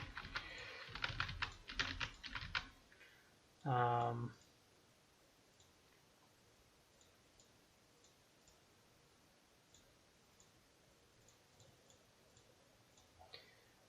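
Typing on a computer keyboard at a desk: a quick burst of key clicks lasts about three seconds, then a short louder clatter follows. Near silence comes after, with one last faint click at the end.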